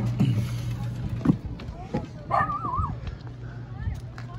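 Dogs at an RV campsite on the Fourth of July give a few short yips and barks close by, spread across a few seconds against steady outdoor background hum, with people talking nearby.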